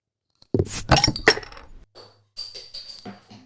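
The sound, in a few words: glasses clinking in a toast with beer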